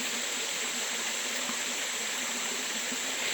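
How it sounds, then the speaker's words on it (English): Waterfall in a natural outdoor setting, a steady broadband rush of falling water filling the whole stretch, constant and unbroken at moderate level. "Maybe I'll get here where you can see the waterfall again."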